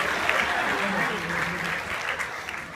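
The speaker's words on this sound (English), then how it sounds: "you could hit a round of applause if you like the equation" Round of applause from an audience in Terna Auditorium, Navi Mumbai, steady broadband clapping with voices mixed in beneath it.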